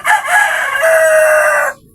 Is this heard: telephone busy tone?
no